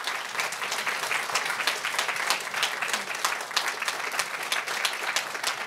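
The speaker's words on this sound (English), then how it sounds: "give a very big round of applause for Jay, for Wadsworth, for Gerald, and for Sherman" Steady round of crowd clapping at an art conversation event, a dense, even patter of many hands held at moderate level throughout with no pause.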